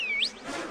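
Cartoon-style sound effect of bees buzzing, a brief rising whine over a steady insect-like drone, fairly loud and without voices.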